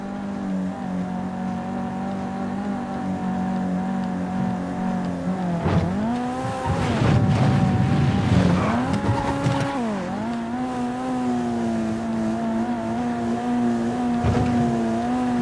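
Car driving in GTA V on a FiveM server: a steady engine drone rises and falls through revving and acceleration, with bursts of tire squeal and skidding in the middle, close and loud with no talk.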